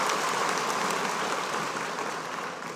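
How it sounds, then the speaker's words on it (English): An audience at a secondary-school debate in Papua New Guinea claps for the debate team, a soft, fairly distant wash of applause that fades gently. "So a round of applause for the Sete Abal Secondary."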